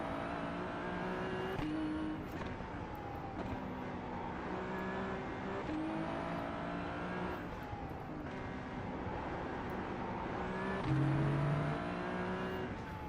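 Ferrari 296 Challenge racing around the Nordschleife in a racing game, its engine wailing steadily and close, with repeated upshifts and dips as it brakes and re-accelerates, with no talking over it.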